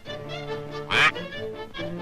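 A single loud, nasal duck quack from an old cartoon cuts through soft orchestral music, brief and close in the middle of the passage.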